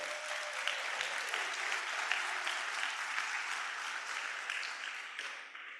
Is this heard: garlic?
no